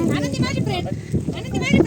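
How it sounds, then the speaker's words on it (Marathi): A goat bleats close by during a family picnic at Manjarsumba Fort, short wavering cries mixed with people talking nearby. "शेळी आली"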